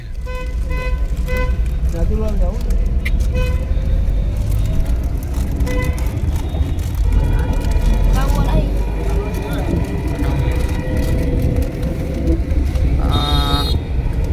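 Busy road traffic at Sachar in Gujarat, where a bridge is under construction near the Luni river, with continuous engine rumble from cars and buses and a few car horn toots, loud and close throughout.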